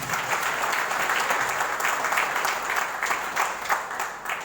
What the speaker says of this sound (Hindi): जोरदार ताली चाहिए